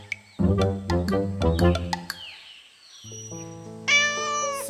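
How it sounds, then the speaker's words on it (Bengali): A cartoon cat lets out a run of loud, close, pitched meows in quick succession, then a pause and longer drawn-out mewing cries in an animated children's story. "সারসু, দেখো একটা বিড়াল এখানে এসছে।"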